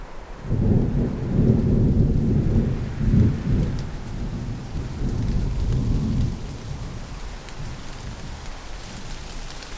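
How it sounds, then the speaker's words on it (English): Steady rain pours down while deep rolls of thunder rumble and swell, then fade, leaving the continuous hiss of rainfall. "What's with all the rain?"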